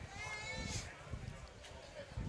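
Goats bleat at a county fair dairy goat show, faint calls mixed into a busy crowd with people talking over a public address.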